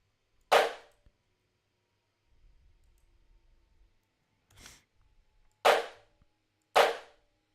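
A drumline plays loud unison shots, four sharp cracking hits spaced apart with near silence between them, the third softer than the others and the last two closer together.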